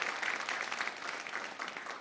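A church congregation applauds during a New Year special dawn worship service, a brief, even patter of clapping from many hands at moderate distance.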